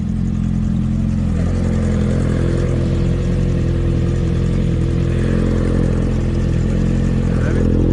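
A motorcycle engine runs loud and close, a steady rumbling idle with mechanical clatter that rises slightly as it is revved, continuous throughout.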